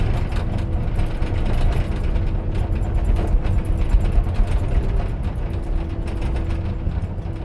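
A tracked bulldozer steering left and right gives a steady, loud mechanical rumble with ratcheting, clanking track and gear noise throughout.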